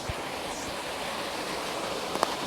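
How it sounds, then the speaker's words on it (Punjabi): Small waterfall in Punjab, a steady, even rush of falling water heard alone, with one or two faint knocks near the end. "ਤੀਜਾ ਛੋਟਾ ਜਿਹਾ ਵਾਟਰਫਾਲ"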